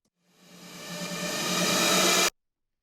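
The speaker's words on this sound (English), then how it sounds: "We've also got a riser happening in here, which sounds like this." A white-noise riser swells steadily for about two seconds, growing brighter and louder before cutting off abruptly.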